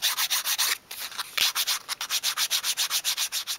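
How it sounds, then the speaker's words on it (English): Sandpaper sweeps along a small wooden piece for a 1/12th scale dolls house fireplace surround, in rapid, even rasping strokes close up, with one short break midway. "So support the piece and just sweep the sandpaper along at a"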